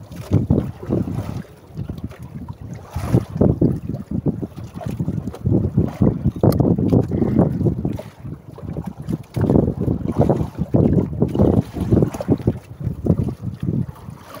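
A fishing boat at sea on a rough open stretch, buffeted by strong gusty wind with rumbling wind noise on the microphone and sloshing waves, loud and continuous.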